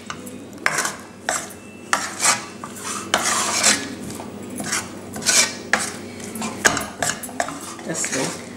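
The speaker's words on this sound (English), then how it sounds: "mix it, stir it so that it's mixed thoroughly." A spoon scrapes and stirs a thick cashew barfi mixture in a metal pan, with a continuous rhythm of metallic clinks and rubbing close to the mic.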